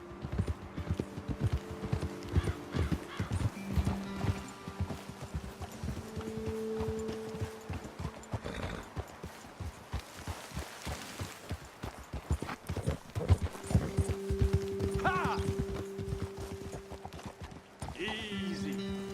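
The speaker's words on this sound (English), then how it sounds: "Okay, let's dismount here. Best leave the horses back a bit." Horses' hooves clip-clop steadily while riders travel in Red Dead Redemption 2, a rhythmic run of close hoofbeats with game music and ambient sound beneath, and a brief horse snort near the end.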